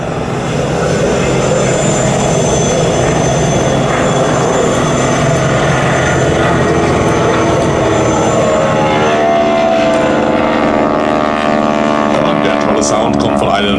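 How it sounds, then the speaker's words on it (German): Loud, continuous drone of a 1943 Boeing Stearman biplane with a nine-cylinder Pratt & Whitney R985 radial engine of 450 hp during an air show flying display, the pitch shifting as it passes. "Sound kommt von einem 9-Zylinder Sternmotor Pratt & Whitney R985 mit 450 PS."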